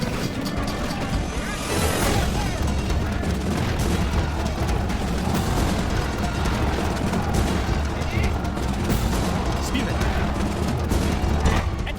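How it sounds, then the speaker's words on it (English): Massed archers loose volleys in a video game battle, a dense, continuous roar of combat din and impacts that stays loud and steady throughout, with a slight swell after the opening seconds. "I'm going to advance my archers up a little bit closer. Have them continue to fire."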